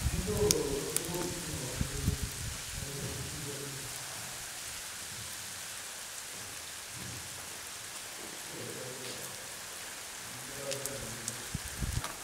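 Heavy rain pours down on a surface during a storm in the Troodos mountains, a dense steady hiss with low thunder-like rumbles and a few louder knocks near the start and end.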